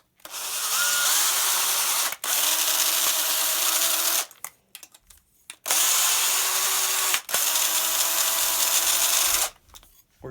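A power drill bores holes into metal for an air hose reel, running in two long, loud bursts separated by short clattering handling sounds and a pause.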